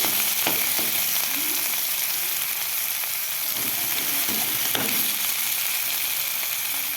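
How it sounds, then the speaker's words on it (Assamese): Chopped onion, chili and a large tomato fry in a hot pan, giving a steady bright sizzle with occasional soft clicks and stirring knocks, close up and with no one speaking. "ইয়াতে মই পিঁয়াজ, জলকীয়া আৰু এটা ডাঙৰ চাইজৰ বিলাহী কাটি লৈ অকণমান ভাজি ল'ম।"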